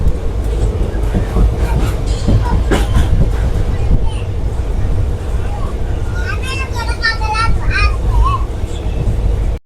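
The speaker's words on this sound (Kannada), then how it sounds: "ಇವಾಗ ನಮ್ಮ ಟ್ರೈನು ಬೀರೂರು ಕಡೆ ಹೊರಟಿದೆ" Mysore Express train running through rainy countryside toward Birur, a steady low rumble of wheels and carriage with some rattling knocks, heard from inside the coach, with faint background voices.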